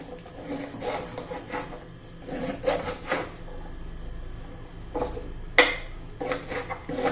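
A knife chops tender abhay bean pods, with the ends already trimmed, into thin pieces. Irregular clicks and taps of the blade on a board are spread across the stretch, with one sharper knock, and no voice.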